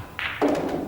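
An eight-ball pool shot in a final: a cue tip strikes the white ball with a short tap, quickly followed by a duller clack of balls colliding, brief and close with no talk.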